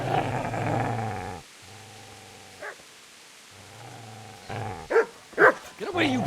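In the video game Kingdom Come: Deliverance, a close dog growls in low rumbling bursts, then breaks into several loud, sharp barks near the end.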